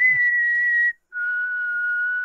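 A clear, close whistled tune: one long sustained note, a brief pause, then another long steady note slightly lower.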